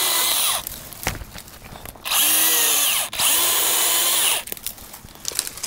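Cordless chainsaw with a 14-inch bar cutting through a tree about 12 inches thick at the base: bursts of loud, close motor whine that rev up and cut off, separated by short pauses with knocks and clatter.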